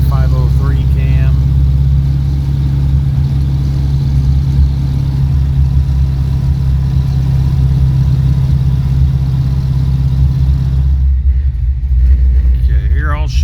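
An LT1 V8 with a big Comp CC503 camshaft on a stock tune idles in a G-body El Camino, giving a loud, steady, lumpy low rumble that runs unbroken before a brief rise in pitch near the end.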